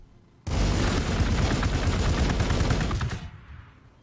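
Sustained burst of rapid automatic gunfire aimed at Xenos in the Warhammer 40,000 Gladius strategy game, loud and dense for about two and a half seconds, then cutting off with a brief decaying tail.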